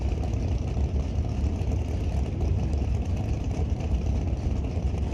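A loud, bright green 2026 Chevy Camaro drag car idles at the starting line during NHRA Canadian Sportsnationals qualifying, a steady low rumble that holds without a break.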